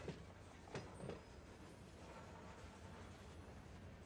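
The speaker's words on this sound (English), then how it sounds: "you got that soft creak of the ties as the train goes by" A freight train rolls over the track ties in Run 8 Train Simulator, giving a faint, steady rumble broken by a few soft clicks and creaks early on, distant and quiet throughout.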